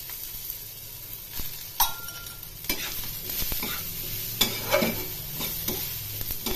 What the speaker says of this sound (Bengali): বেগুনগুলো একটু ভালো করে ভেজে নেব।